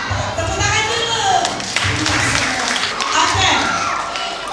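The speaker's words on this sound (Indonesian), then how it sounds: "Tepuk tangan dulu" Children clap their hands in rhythmic bursts at a church Christmas celebration, the claps loud and close, repeating in short groups with a voice talking among them.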